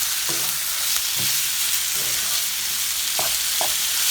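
Ingredients frying in a pan for cheese soup with chicken breast, a continuous close sizzle with a few scraping stirs of the utensil against the pan, no voices.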